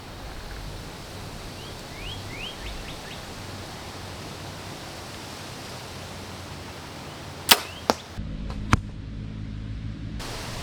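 An Xpedition Archery XLITE 31 compound bow releases arrows in an outdoor setting, giving three short, sharp snaps about a second apart over steady wind-like background noise.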